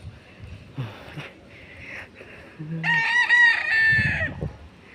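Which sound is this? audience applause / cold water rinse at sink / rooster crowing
rooster crowing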